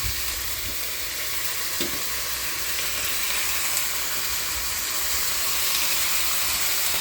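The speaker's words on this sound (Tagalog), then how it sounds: "Gisa natin." Meat sautéing in a pan, a dense continuous sizzle and hiss with faint stirring scrapes, steady and close throughout with no talking.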